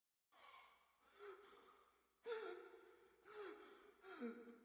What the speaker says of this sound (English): it literally just sounds like someone breathing